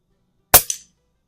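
A single suppressed gunshot cracks sharply, followed a split second later by a short metallic impact on a spinner target, then silence.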